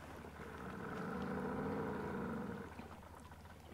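An outboard motorboat engine with mechanical problems drones steadily at a distance on a lake, swelling slightly before easing off and fading near the end.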